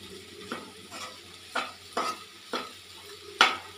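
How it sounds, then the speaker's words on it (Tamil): Carrot and beans poriyal with ground coconut paste is stirred in a pan with a spoon. About six soft scraping strokes come at an even rhythm over a faint sizzle, quiet and close. "இப்போ அரைச்சி வச்ச தேங்காய் விழுதுகளை சேர்த்துக்கலாம் பொரியலில். இதை நல்லா கிளறிக்கலாம்."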